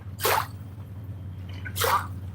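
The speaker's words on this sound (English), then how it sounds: "Sounds like we might be getting our first rain" Two separate soft drip-like splats land about a second and a half apart beside a river, with a low steady hum underneath and no talk.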